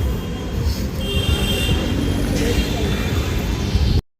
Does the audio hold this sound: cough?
no